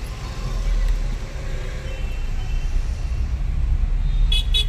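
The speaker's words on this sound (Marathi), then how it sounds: "फर्स्ट गिअरवर मला चालवायला लावतोय गाडी" An auto rickshaw crawling in first gear through congested city traffic near Kurla station, its low engine drone steady and continuous, with surrounding road noise and a few faint high horn toots near the end.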